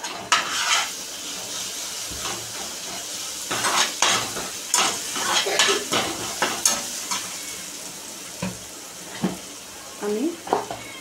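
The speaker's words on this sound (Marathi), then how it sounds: "आणि थोडी अद्रक लसूणची पेस्ट टाकते." Ginger garlic paste sizzles and fries in a hot pan for vada pav, stirred with a spoon that clinks and scrapes against the metal in irregular bursts over a steady crackling hiss.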